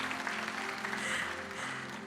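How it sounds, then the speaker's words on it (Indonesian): Applause from a church congregation during a sermon, a dense steady wash of clapping that holds at an even level throughout, with tonal music or murmur sustained underneath. "Berikan tepuk tangan bagi Tuhan kita"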